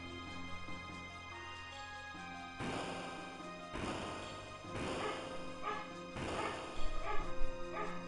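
Home dogs bark at a turtle outside, a few scattered barks rising over continuous background game music.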